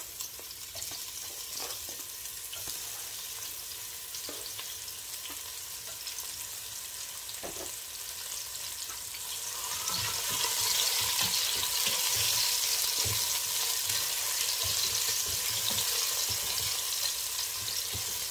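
Onions and garlic hit preheated oil, setting off a steady frying sizzle that swells louder partway through and holds as a dense, continuous crackle with occasional clicks from the pan.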